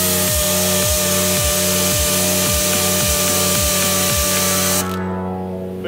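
VW transaxle shift rails are polished by hand in a rhythmic series of about ten regular rubbing strokes, close and fairly loud, with a sharp cutoff near the end.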